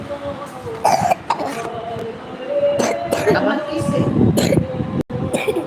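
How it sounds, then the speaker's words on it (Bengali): Someone coughs and clears their throat several times in short, rough bursts, with people talking around them. "শরীর ভালো না কাশতেছো কেন"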